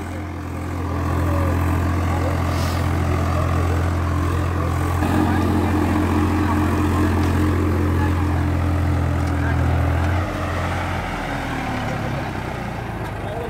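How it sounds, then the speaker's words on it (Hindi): A diesel tractor engine in a village fuel-economy test contest in Haryana drones steadily at around 1800 RPM, loud and close with a strong low hum, then drops in pitch near the end, with people talking over it. "स्टार्ट हो गया ट्रैक्टर"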